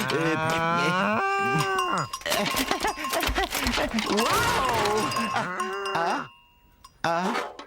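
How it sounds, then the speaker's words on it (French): A cartoon cow moos in long, wavering, exaggerated calls, loud and close, broken by clattering crashes and a brief silence, with character voices heard alongside. "Gentille petite vache."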